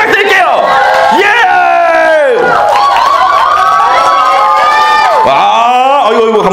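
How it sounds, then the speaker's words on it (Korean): A cinema audience at a Korean film stage greeting erupts in loud cheering, shrieks and whoops that rise and fall as the cast and director are introduced, with an announcer speaking over the crowd. "큰 박수와 함성 부탁드릴게요"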